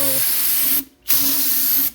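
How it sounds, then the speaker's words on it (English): Brake parts cleaner sprays from an aerosol can onto the oil pan of a 1997 Honda CR-V in two loud, close hissing bursts with a brief gap between them. "spray it off with the brake parts cleaner"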